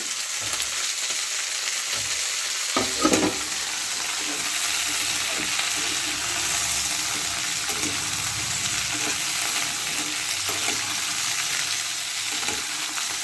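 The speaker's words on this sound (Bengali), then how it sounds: "সবজিগুলো ভাজা হয়ে গেছে" Eggplant and mixed vegetables fry in a pan with a steady loud sizzle, stirred now and then with a few clinks and scrapes of the spatula, close and continuous without speech.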